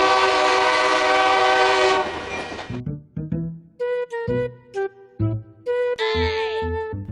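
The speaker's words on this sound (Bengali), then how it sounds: "ট্রেন আইতেছে" A train horn blares in one long, loud sustained blast, then breaks into shorter honks and rising tones as the train approaches. Rumble sits underneath, with a brief squealing tone near the end.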